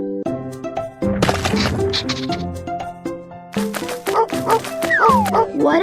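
A cartoon search dog at an earthquake rescue scene barks and yips in quick, loud bursts over bright background music, with voices speaking between the barks.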